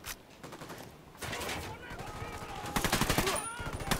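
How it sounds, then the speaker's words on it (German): Rapid bursts of automatic gunfire in the video game Ghost Recon Wildlands, dense crackling volleys that grow louder and more continuous toward the end, with voices speaking alongside. "Ich schieße auf die Ärsche."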